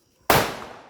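A single firecracker bursts while held in the hand, one sharp, loud, close bang after a brief silence, followed by a short decaying rumble.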